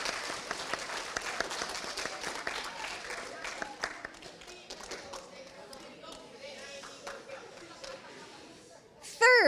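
A graduation-ceremony audience applauds its chaperones, a dense patter of clapping that is loud at first and then thins out, with crowd chatter underneath and a brief voice at the end.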